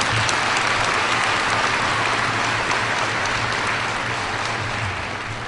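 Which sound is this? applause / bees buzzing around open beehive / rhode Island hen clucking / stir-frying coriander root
applause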